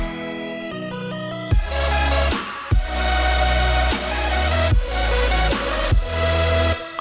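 An electronic music drop without LFO wobble, with heavy bass hits landing in a regular pulse under a sustained, static synth layer that opens from a brief melodic intro, loud and up front with no voices.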